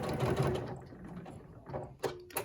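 A sewing machine stitching binding onto a quilt runs with a soft mechanical whir, fading and stopping partway through before a couple of brief clicks and bumps of handling.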